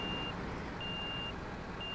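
A garbage truck in the city-service game Cityconomy backs up, its reversing alarm sounding three steady beeps over a low engine idle and street rumble.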